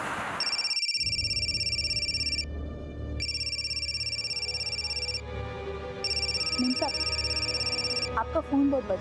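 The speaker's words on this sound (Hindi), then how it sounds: "आपका फोन बहुत बज रहा है।" A phone rings in repeated electronic trills that start and stop in a steady pattern, fairly loud and close over a low background drone, with a few faint blips near the end.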